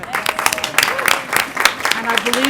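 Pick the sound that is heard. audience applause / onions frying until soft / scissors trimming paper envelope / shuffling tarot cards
audience applause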